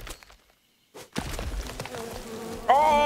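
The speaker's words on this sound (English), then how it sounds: "Oh, the bees! More bees! That's gonna kill me." Bees buzz in the survival game Len's Island, a rising swarm drone after a short silence, ending with a louder, higher whine close by.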